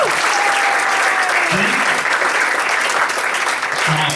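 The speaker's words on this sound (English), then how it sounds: "Give her a round of applause." Strong applause fills a corporate presentation room, a thick, sustained roar of clapping from the audience with a faint voice briefly audible underneath.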